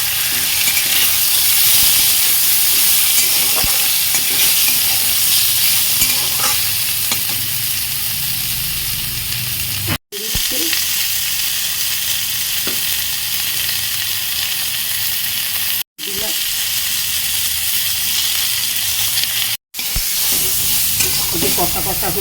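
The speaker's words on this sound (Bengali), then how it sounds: "এঁচোড়টা কষে নেব।" Raw jackfruit stir-fried in a pan with a tempering of mustard, dried chilli and bay leaf makes a loud, continuous sizzle with scraping stirs, broken by three abrupt brief gaps.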